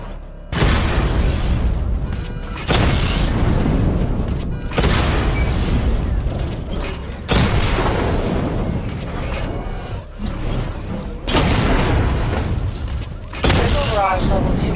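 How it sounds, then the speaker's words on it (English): Missile barrage explosions in Batman: Arkham Knight, a series of heavy booms and blasts in repeated waves roughly every two to three seconds, loud and close, with speech in the game mixed in. "Charge the missile barrage to level 2 to destroy up to 4 targets at once."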